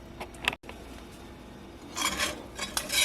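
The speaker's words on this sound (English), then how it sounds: "now I am going to whisk this over a medium-low heat" A whisk scraping and clinking against a pot while flour and bacon grease are stirred into a roux for gumbo, in soft irregular strokes with a brief silence early and louder scraping toward the end.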